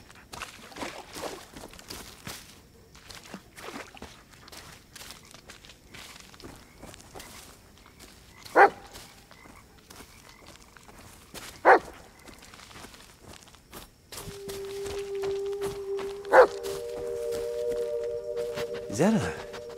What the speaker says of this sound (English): Sounds like another dog.